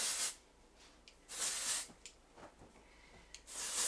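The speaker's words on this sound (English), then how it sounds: "I'm gonna spray my hair with a little dry shampoo" Dry shampoo sprayed onto hair from an aerosol can in short hissing bursts, three main sprays separated by pauses with faint rustling in between, close and fairly loud.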